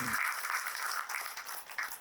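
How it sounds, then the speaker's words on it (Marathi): An audience at a political workers' rally breaks into steady, moderately loud applause of many hands clapping together for two seconds. "त्या अतुल काळसेकरांसाठी, महाराष्ट्राच्या उपाध्यक्षांसाठी जोरदार टाळ्या"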